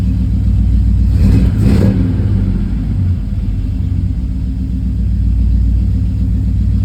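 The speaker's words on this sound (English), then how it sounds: "So let's bump it with the gas pedal here." A car engine fitted with an ACES Killshot EFI idles with a loud, close rumble, then rises in a quick rev from the gas pedal and settles back to a steady idle.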